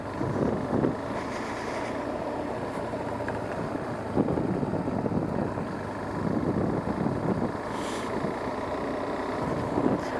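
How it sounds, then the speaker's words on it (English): Riding a 2021 KTM 390 Duke motorcycle, with a steady engine drone and heavy wind buffeting the microphone throughout, and a few brief gusts. "today I'm trying this KTM 390 Duke."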